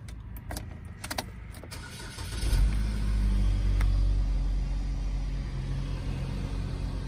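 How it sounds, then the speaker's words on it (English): A 2014 Chevrolet Equinox engine cranks briefly and catches at about 2.5 seconds, settling into a loud, steady low idle rumble close by, after some light clicks and key jingles inside the cabin. "Hop in here and start it up here for you too."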